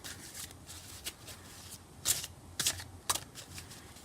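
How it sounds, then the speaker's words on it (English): Close, quiet bursts of tarot cards being shuffled, a series of papery riffles and flicks with short pauses between them and no talking. "I always like to shuffle when I pull another card."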